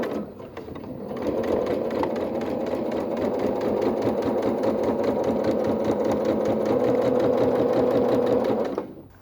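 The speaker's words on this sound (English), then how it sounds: "Now when I start to sew, I just need to keep the edge of the quilt right at the edge of that foot." A sewing machine runs a continuous straight stitch along the edge of a heavy full-size quilt, a loud, steady, rapid mechanical whir that starts after a second and stops abruptly near the end, close up with no talk.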